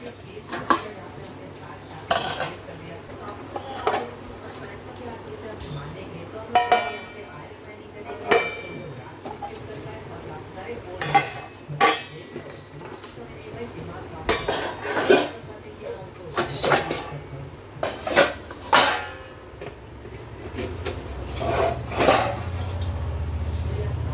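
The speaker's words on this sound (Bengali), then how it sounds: "আসার সময় বাসন কয়েকটা নিয়ে আসলাম ওগুলোই উপর করে দিই জল ঝরলে আবার ভিতরে ঢুকিয়ে রাখতে হবে বাসন" Dishes and metal utensils being handled and set down in a home kitchen, a scattered series of sharp clinks and clatters over a quiet background, with someone talking between them.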